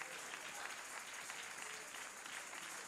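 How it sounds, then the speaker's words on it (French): A church congregation claps and cheers together in a steady, dense wash of applause that holds evenly throughout, with faint voices mixed into the crowd noise. "Pouvons-nous juste acclamer et applaudir?"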